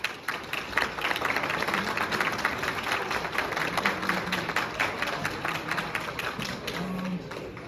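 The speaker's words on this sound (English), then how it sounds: "can we get a round of applause for all the supporters?" Steady applause from the audience at a school winter band concert, a continuous patter of many hands at moderate volume that keeps an even texture with no pauses.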